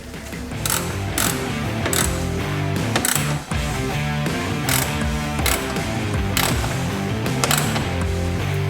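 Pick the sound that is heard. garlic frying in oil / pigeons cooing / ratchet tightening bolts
ratchet tightening bolts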